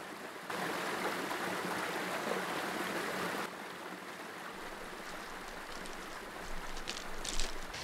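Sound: river flowing while hiker wades across

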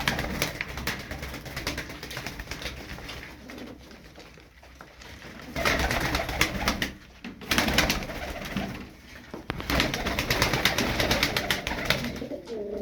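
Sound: pigeons cooing

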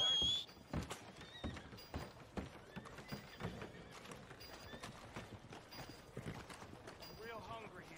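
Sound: horse hooves and neighing in video game Red Dead Redemption II

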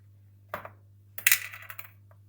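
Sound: opening a container of fish food

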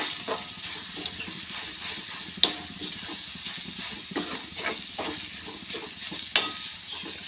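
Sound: ground masala paste being sautéed and stirred in a pan

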